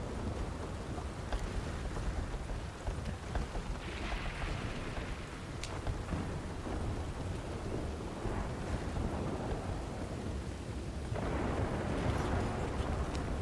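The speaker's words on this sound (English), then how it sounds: "what a storm." Rain and thunder from a storm in a role-play video game, a steady dense downpour with low rumbling throughout that grows slightly louder near the end, with no voices.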